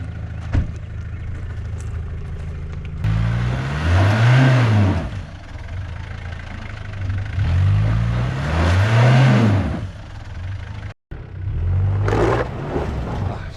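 Car engine revs hard in repeated rising and falling surges with a back wheel stuck in a hole on a muddy track after heavy rain at Mavora Lakes, loud and close, with a short cutout near the end.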